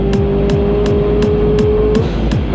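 A Subaru BRZ driven at full power around a race track, its engine holding a loud, steady, close drone with a constant pitch and faint regular ticks running underneath.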